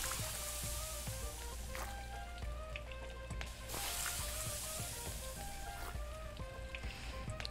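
Food sizzles steadily in a pan in the cooking video game Venba, a dense crackling hiss running continuously with small pops and faint game music tones underneath.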